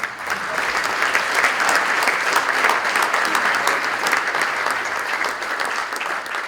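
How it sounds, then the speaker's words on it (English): An audience at a university alumni awards ceremony applauds, producing a sustained, dense round of clapping that swells quickly and holds steady for several seconds, with no talking. "let's have one more round of applause"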